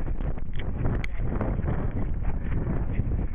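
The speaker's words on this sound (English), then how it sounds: "Ooh, it's windy!" Strong wind buffeting a microphone on Harcles Hill, a steady low roar and rumble throughout with brief rustling bursts.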